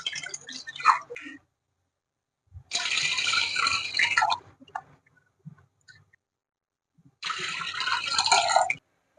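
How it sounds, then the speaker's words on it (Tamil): Water splashes and pours into a cooking pan in two sustained bursts separated by a quiet pause, with a short liquid trickle at the start, close and moderately loud. "இப்ப அதே சட்டியில நம்ம ரவை அளந்த அதே கப்புக்கு 3 கப்பு தண்ணி ஆட் பண்ணணும்."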